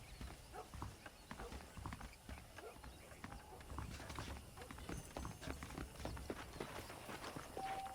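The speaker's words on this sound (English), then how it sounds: "The horses are saddled up over here." Hooves of saddled horses clip-clopping steadily at a walking pace in the video game Red Dead Redemption, with light movement noise throughout and no talk.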